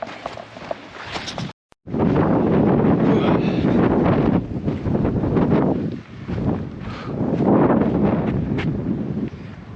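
Strong wind buffets the microphone on a beach in Lagos, Portugal, a loud continuous roar with gusts rising and falling, and faint footsteps beneath it.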